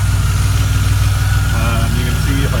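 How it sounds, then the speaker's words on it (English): A DeLorean engine idles roughly and loudly, a steady low rumble with a lumpy, uneven pulse running throughout. "You can see if I pull this, the engine will run crappy."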